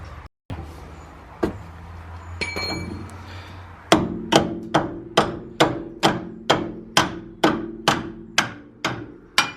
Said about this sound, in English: you need a hammer to knock it off the existing shock